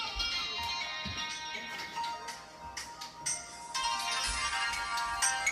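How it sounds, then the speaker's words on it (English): A flip phone's cell ringtone plays a repeating electronic melody of bright chiming notes, moderately close and fairly steady across the clip, with faint low thumps underneath and no talking. "My mom's cell phone."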